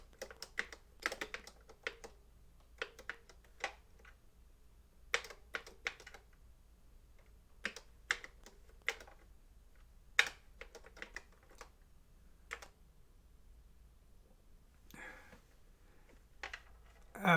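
Keys clack on a Famicom keyboard while Family BASIC code is entered, irregular bursts of close, light keystrokes separated by short pauses, with no talking.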